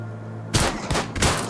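Flameless automatic turret firing in the Dawn of Zombies survival video game: two rapid, loud bursts of close gunfire cut in after a quiet moment, each a tight rattle of shots with no talking.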